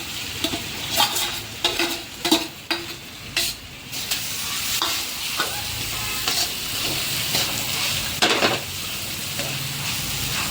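Potatoes with turmeric are stirred in a frying pan for a potato-and-peanut fasting khichdi, giving steady scraping strokes over a continuous close sizzle, with a few louder knocks of the spoon early on and no talking.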